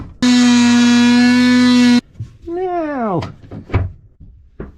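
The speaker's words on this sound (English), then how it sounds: "And close the door." A door on a canal boat swings shut: after a long loud steady electronic tone, a rising creaking sweep and a few sharp knocks and thuds ring out close by in a quiet cabin.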